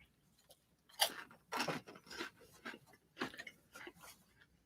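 Crunchy snack chewed close up, loud irregular crunching bites and munches separated by brief quiet gaps.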